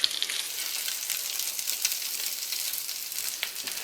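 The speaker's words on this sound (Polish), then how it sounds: "I smażymy drugą stronę." Minced meat and mushroom patties sizzle in a frying pan as their second side cooks, giving a steady, fairly quiet crackling hiss with no talking.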